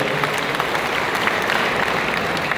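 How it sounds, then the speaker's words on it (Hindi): A large crowd at a political ceremony in Ambala gives loud, sustained applause welcoming JP Nadda, thick continuous clapping filling the whole span. "जोरदार तालियां बजाकर के इनका स्वागत करिए"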